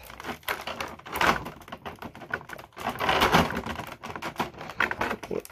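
Packing tape being peeled and pulled off the plastic packaging of a NECA TMNT Foot Soldier figure's toy staff, heard close up as crackling, rasping tearing in several bursts with brief pauses between them.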